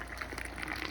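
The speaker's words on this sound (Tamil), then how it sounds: "தூக்கி ஊத்துங்க சார்" Hot tea poured from a height into a cup at a tea stall, a brief close gushing splash of liquid.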